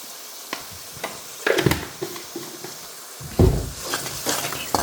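Spoon stirring carrot pickle mixture with turmeric powder in a pan, soft scraping strokes with light sizzling, close and intermittent with a few louder stirs.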